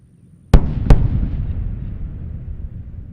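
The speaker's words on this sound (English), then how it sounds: "Those sonic booms announcing Discovery's arrival." Two sharp sonic booms from Space Shuttle Discovery arriving to land at Kennedy Space Center, a loud double crack about a third of a second apart followed by a long rumbling decay, with no talk.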